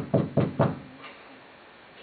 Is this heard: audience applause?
no